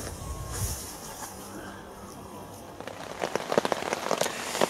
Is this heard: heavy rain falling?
yes